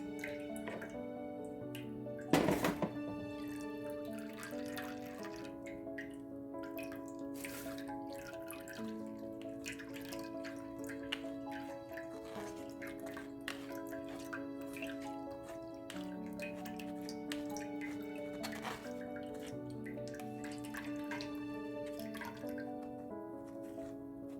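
Carrot and beetroot juice dripping through a small strainer, a faint, quiet patter of drops and trickles with a couple of louder splats near the start, heard alone without speech.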